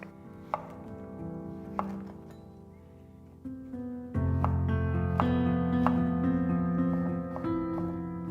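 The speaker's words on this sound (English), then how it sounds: "One king oyster mushroom, diced." A knife dices a king oyster mushroom on a board: sparse, crisp chops at uneven intervals, a few single strikes and then a quicker cluster, heard close over steady background music.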